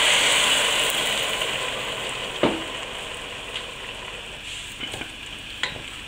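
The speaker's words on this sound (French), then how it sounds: "Je vais maintenant mouiller avec le vin blanc." White wine hits a pan of sizzling cuttlefish and onions, giving a bright hiss that slowly fades, with a few clinks and scrapes from stirring.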